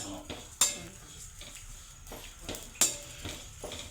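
Dried fish (sukat) being stirred and roasted in a pan, with a utensil scraping and clinking against the metal in an irregular rhythm and two sharper clanks standing out, close up over a low steady background.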